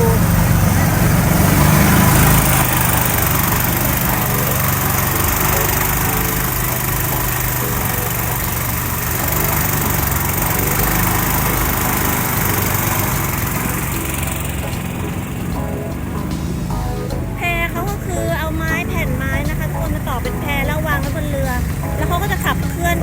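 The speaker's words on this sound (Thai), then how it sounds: "เครื่องยนต์เรือนะคะ" A loud, steady boat engine drone on a raft ferry in Laos runs continuously throughout, with broadband rumble and a voice talking faintly over the later part.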